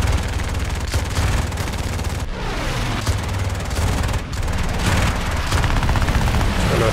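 Loud, sustained machine gun fire from an He 51 C-1 biplane in the War Thunder air arcade battle, dense rapid bursts with only brief gaps and booming impacts mixed in.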